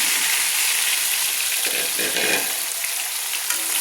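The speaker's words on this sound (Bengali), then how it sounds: "800 গ্রাম চিকেন আমি যে একটু লবণ হলুদ দিয়ে ম্যারিনেট করে রেখেছিলাম আর লঙ্কা গুঁড়ি দিয়ে, সেটা আমি কড়াইতে ছেড়ে দিচ্ছি।" About 800 g of chicken marinated in salt, turmeric and chili powder fries in hot oil in a kadai, giving a loud, continuous, hissing sizzle throughout with faint stirring.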